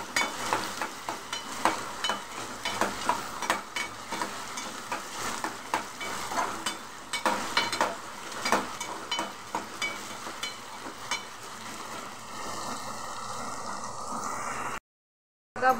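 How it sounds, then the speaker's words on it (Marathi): Potatoes are stir-fried in a pan, a continuous sizzle broken by repeated scraping and stirring strokes of a utensil, running steadily before a brief silent break at the end. "बटाटा चांगलं परतून घेते."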